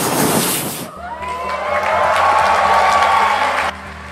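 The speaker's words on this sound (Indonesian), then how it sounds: "Tepuk tangan yang meriah buat Tuhan kita." A church congregation bursts into applause, loud, close and dense at first, then turns into a broad cheering crowd over a steady music background, with no distinct speech.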